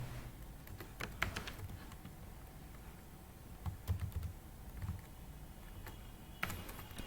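Someone types a paragraph on a computer keyboard, producing quiet, close key clicks in uneven bursts with short pauses, and a few louder taps standing out.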